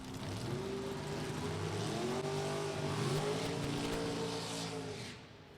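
Drag racing cars run at Route 66 Raceway, a sustained engine roar heard from a distance that rises and falls in pitch as the cars pull away, steady for several seconds before fading.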